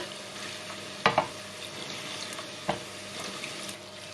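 Bánh tiêu dough frying in hot oil gives a quiet, steady sizzle, with a few sharp crackles and pops standing out near the middle and again a little later.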